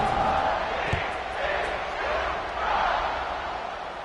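A football stadium crowd roars in a broad, sustained wash of cheering after a kickoff, swelling and easing in waves from a distance, with a single sharp thud partway through.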